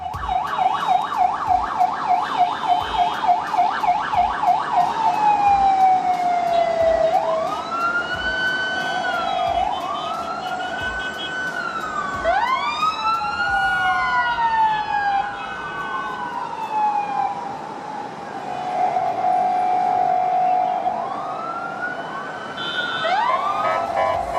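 An ambulance siren wails through narrow Dubai traffic, starting with rapid yelping pulses, then shifting into long rising and falling sweeps over a steady engine and road hum, loud and sustained with no voices.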